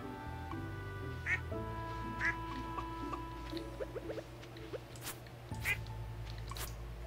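Ducks in the farming video game Stardew Valley let out several short, soft quacks at intervals over looping game music and small chimes.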